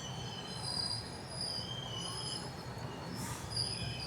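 Train running through the night toward Puri, a steady close rumble of wheels on rails with faint high wheel squeal, continuous and unbroken, no voices.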